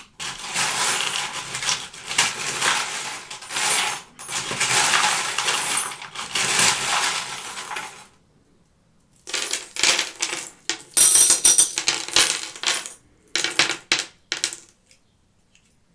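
Small metal charms are shaken and handled close up, giving bright, dense jingling and clinking in long bursts separated by short silences, with sparser clinks near the end.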